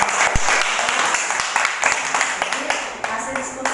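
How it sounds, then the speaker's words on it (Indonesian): A group claps in brisk, scattered applause that tapers off, with a voice speaking faintly underneath. "tepuk tangan"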